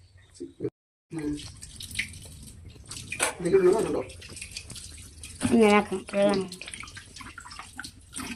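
Tap water runs and splashes in a kitchen sink while raw chicken is washed for a tava mandi recipe, coming in irregular bursts with drips and handling noises at close range.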